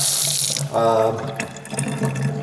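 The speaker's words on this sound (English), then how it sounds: "And the water's coming out pretty fast." Water runs fast from a faucet, a steady close splashing rush whose tone shifts briefly partway through as the flow changes.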